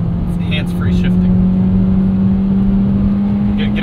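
A 2022 Hyundai Venue's engine pulls hard toward redline, a loud sustained drone with a steady tone inside the cabin, with speech over it.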